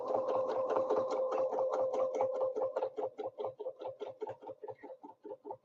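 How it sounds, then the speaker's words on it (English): A sewing machine stitches a quilt block, a rapid, even train of mechanical needle thumps with a faint motor whine. The run is steady and close, then slows toward the end into separate, spaced stitches. "when I stitch up, I should be stitching right on that line"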